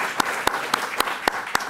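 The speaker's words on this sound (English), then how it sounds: "I think they deserve a big applause" Lone, sparse clapping at a Python AsyncIO conference talk: six sharp, evenly spaced claps about a quarter second apart over a faint room hum, with no crowd joining in.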